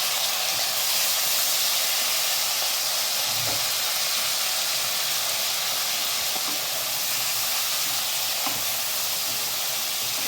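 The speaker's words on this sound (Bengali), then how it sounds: "আমি এই তেলেই ভেজে নিচ্ছি চিংড়িটা" Shrimp fries in hot oil with a loud, steady sizzle and hiss, punctuated by a few soft stirring knocks; no voices.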